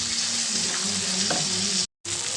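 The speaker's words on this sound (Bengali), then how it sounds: "এবার পেঁয়াজ আর ক্যাপসিকাম দিয়ে এটাকে নাড়ছি" Onion and capsicum sizzle loudly in a pan while being stirred for garlic chili chicken, with scraping bumps and a brief dropout of silence near the end.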